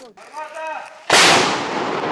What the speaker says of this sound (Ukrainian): За день в бік противника гармата випускає десятки снарядів.